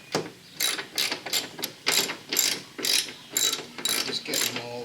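A hand ratchet snugs the fender bolts on a GMC Sierra during a front driver fender replacement, clicking in about nine quick bursts of rapid pawl clicks with brief pauses between them, close and clear.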